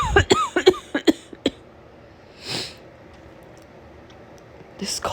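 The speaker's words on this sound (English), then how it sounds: "This cough is killing me." A woman with a summer cold coughs in a quick cluster of close, harsh bursts, then gives a breathy exhale and a sniff at the end, with quiet room tone between.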